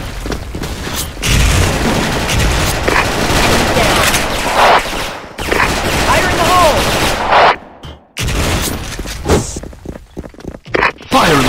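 Rapid FN FAL rifle gunfire in the online shooter Special Force, loud bursts of shots and booms filling most of the stretch, broken by brief pauses near the end.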